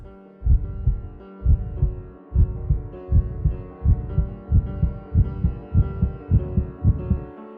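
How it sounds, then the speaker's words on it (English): A steady, low, muffled heartbeat thumping in a regular double-pulse rhythm, close and throbbing over a faint hum, with no talking. "It was the beating of the old man's heart."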